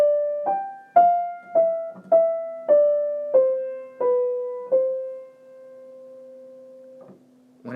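A first species counterpoint melody line plays as about nine clean, pure-toned notes in a steady stepwise rhythm, each struck and decaying, with the final note held long and alone.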